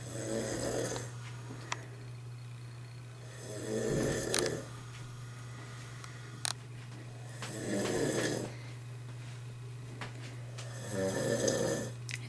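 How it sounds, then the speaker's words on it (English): Two people asleep in front of a television with its volume lowered, snoring in slow repeated cycles, four broad rumbling breaths spaced a few seconds apart over a steady low hum, with no talk. "so we can hear the snoring"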